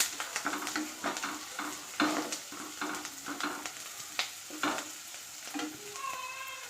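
Sliced onions and green chillies fry in an oiled pan, a close, continuous sizzle punctuated by regular scraping strokes of a spatula being stirred through them, with no voices.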